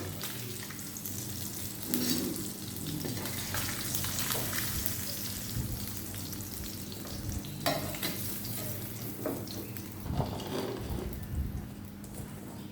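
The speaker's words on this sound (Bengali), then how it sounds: "মাছটা ভাজা হয়ে গেছে আমি তুলে নেবো" Fish, including potato-cooked varieties for a bhuna, fries in oil with a soft continuous sizzle, broken by occasional scraping and clattering of a utensil in the pan.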